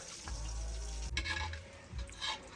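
Curry beef sizzles and fries steadily in a pot over a wood fire, with a brief stirring clatter in the middle and toward the end.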